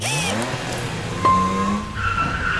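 A car engine fitted with a CSL clone airbox runs and revs, a steady mechanical tone with a sharp blip partway through, heard close and without talk.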